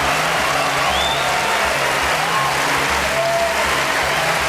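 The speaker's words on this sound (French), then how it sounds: "Tout Hollywood, ils applaudissent." Applause from the Hollywood audience at the 2003 Oscars ceremony, a continuous broad wash of clapping heard at some distance, steady throughout with faint crowd murmur beneath.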